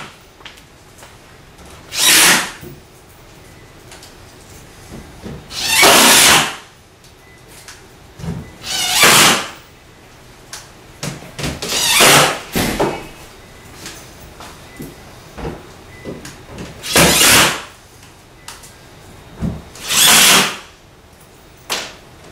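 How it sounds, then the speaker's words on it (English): A power drill drives black 1-inch screws into a cabinet, giving about eight short whirring bursts separated by pauses filled with faint handling clatter. "We're going to screw through the back into our shelves, securing everything together and keeping it nice and square."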